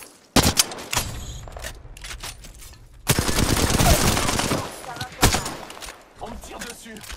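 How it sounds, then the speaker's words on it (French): Gunfire in Apex Legends: sharp single shots crack out early, then a dense, loud burst of rapid automatic fire sweeps through the middle, followed by a few scattered shots. "On me tire dessus."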